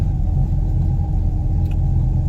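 A 1973 Mercury Cougar XR7 engine runs on a test drive, a loud, steady low rumble and drone heard from inside the car, smooth and unbroken with no talk.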